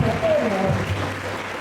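Audience applause in a conference hall welcoming Dr. Marco Brandão, a steady wash of clapping with a voice talking over it throughout.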